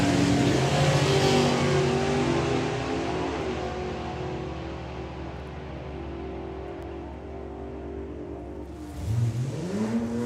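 Drag racing cars roar loud and close through a Pro ET pair run, engine drone gradually easing away, then a fresh rising rev surges near the end.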